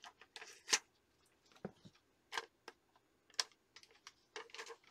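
Scissors trimming the edges off a comic book backing board produce sharp, irregular snips and crisp rustles, close and fairly quiet, with short pauses between cuts and no talk.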